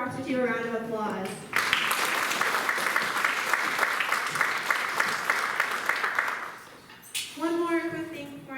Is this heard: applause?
yes